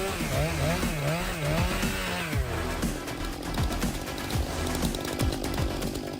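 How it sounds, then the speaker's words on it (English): A Stihl MS 661 chainsaw with a 28-inch bar and 7.3 HP engine bites into large chunks of wood, its loud, close motor snarling and shifting pitch, then settling into a gritty, steady cutting roar. "This chainsaw is a force to be reckoned with, expertly navigating through huge chunks of wood"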